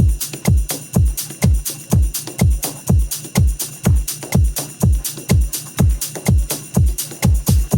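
A full electronic drum mix: steady kicks, hi-hats, rim shots, a ride cymbal and a percussion loop filling the sides, pounding in a tight repeating groove, loud and alone throughout.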